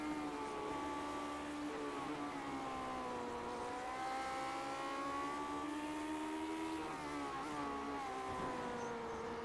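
A race car engine in the iRacing game, a sustained loud high-pitched whine that holds steady and shifts slightly in pitch as the car runs down a straight, with no talk.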